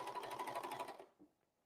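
A serger trims the hairy edge off a fabric seam on an apron, running in a fast, even mechanical chatter for about a second before stopping abruptly, followed by a faint click.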